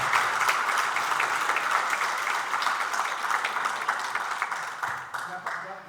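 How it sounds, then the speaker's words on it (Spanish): Sustained audience applause at a conference session, a steady wash of many hands clapping in a hall, even and fairly loud throughout before tapering slightly in the final second. "me gustaría pedirles un aplauso para los organizadores, porque yo creo que se lo merecen de sobra"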